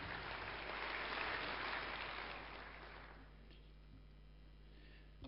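Audience applause welcoming a speaker to the stage swells as a steady wash of clapping, then thins out and fades over a few seconds beneath a low hum.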